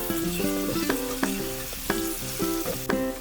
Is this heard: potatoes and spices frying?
yes